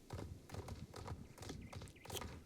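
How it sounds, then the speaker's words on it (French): Horse hooves clip-clop steadily at a walking pace in the Star Stable video game, a regular rhythm of close, fairly soft hoofbeats over a low continuous background. "là je suis en train d'entraîner mon cheval, Coral."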